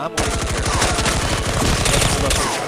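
Rapid automatic gunfire from the video game Counter-Strike rattles off in a long, loud, unbroken burst of evenly spaced shots, close and dominant with no talk over it.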